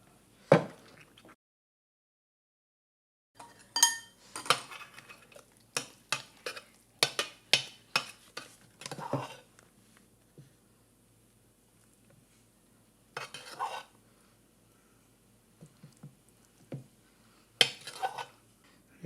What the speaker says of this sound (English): slowly scoop it out